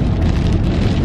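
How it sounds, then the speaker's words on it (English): Heavy rain pours down in a dense, continuous roar, loud and close, with no voices over it. "I just hope the rain calms down within the next"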